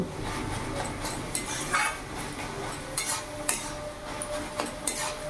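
Ash gourd and shrimp fry in an open pan over a high gas flame while a metal spatula stirs and scrapes, giving irregular clinks over a soft, steady sizzle, with no talking.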